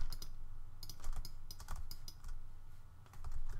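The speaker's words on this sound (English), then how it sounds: "we're going to undo that by hitting Command Z" Mac computer keyboard in an Adobe Illustrator session, a quick irregular run of soft key clicks and taps, close and quiet over faint room noise, with no talking.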